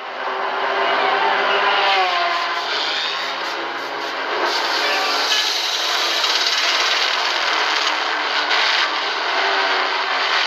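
A race car pit stop during an endurance race, with loud whirring and rasping mechanical work close by, a continuous busy clatter over a wide band with a shifting tone.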